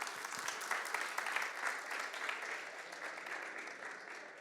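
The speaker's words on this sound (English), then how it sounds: "Some applause, please." An audience applauds steadily, dense clapping from a crowd that holds an even level for several seconds.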